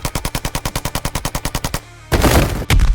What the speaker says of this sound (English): Shooting at kids.